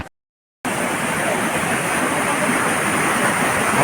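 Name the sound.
natural flowing water in a forest stream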